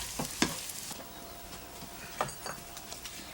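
Charales, tiny lake fish from Lake Pátzcuaro in Mexico, fry in a pan with a soft, continuous sizzle and a few stirring scrapes, fairly quiet and with no voices.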